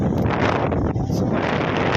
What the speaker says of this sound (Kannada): ಆದ್ರೂ ಮಳೆ ಗಾಳಿ